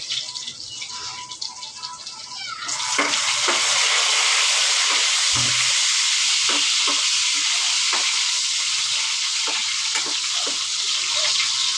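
Ginger dropped into a hot pan erupts into loud, steady sizzling frying that continues without a break, with occasional scraping and stirring knocks under it.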